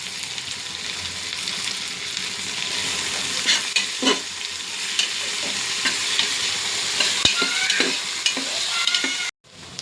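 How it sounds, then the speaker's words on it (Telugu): Chopped tomato pieces sizzle steadily in a pan for a chicken biryani, with a spoon scraping and stirring through them in scattered clicks and scrapes; close and fairly loud, no voices. "ఒక 3 టమోటాలు చిన్న ముక్కలుగా మనం కట్ చేసుకుని వాటిని చక్కగా ఫ్రై చేద్దాం"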